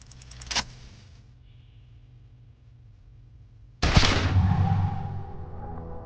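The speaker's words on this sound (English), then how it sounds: "A plume of smoke and fire erupts from the gun, and your hand goes numb from the explosion" A single loud gunshot blast in the video game Disco Elysium bursts out suddenly after a quiet lull and trails off in a long fading rumble, preceded by a short sharp clatter.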